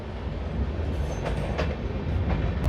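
The Shri Ganganagar to Delhi Intercity (12482) train runs along, heard from inside a chair car coach as a steady, loud rumble of wheels and carriage noise with faint rhythmic clacks, no talking.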